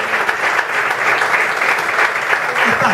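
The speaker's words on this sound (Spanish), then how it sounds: "¡Fuerte el aplauso!" An audience claps loudly and steadily to welcome an artist guest onto a stage at a television interview show, a continuous close roar of applause lasting throughout.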